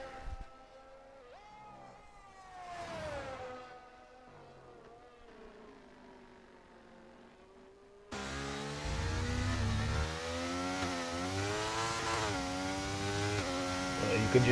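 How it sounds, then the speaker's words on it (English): An F1 car in the F1 2023 racing game revs through its gears on a wet track, cresting a hill while aquaplaning. The engine whine rises and falls, starting quieter and becoming much louder and harsher about halfway through. "You can just hear the car getting a little bit of aquaplaning going over the hill"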